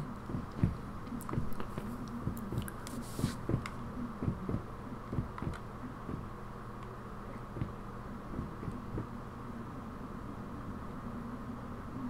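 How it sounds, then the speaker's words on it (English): Footsteps in the horror game Layers of Fear sound like heartbeats: a series of soft, low, thudding beats that come in a loose rhythm over a quiet humming background, louder in the first few seconds and then sparser. "I could have swore them footsteps sounded like heartbeats"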